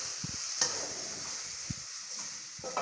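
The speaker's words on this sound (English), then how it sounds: "I'm going to stir. You can see now my mixture." A beef and rice mixture stirred in a pot, a few soft scraping strokes and light clinks of the spoon against the pan over a faint, steady sizzle, quiet and close with no talking.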